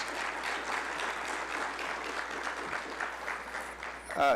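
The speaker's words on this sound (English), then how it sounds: "If you have, just give yourselves a round of applause." Applause from the audience at a Meharry Medical College gala, a sustained dense round of clapping that fills the room, with a brief voice breaking in near the end.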